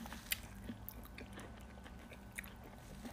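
Crunchy bites and chewing of a golden citrus fruit sprinkled with salt, close to the mic, with a few sharp bites and soft mastication in a quiet room.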